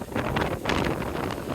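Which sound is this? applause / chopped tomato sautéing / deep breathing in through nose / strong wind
strong wind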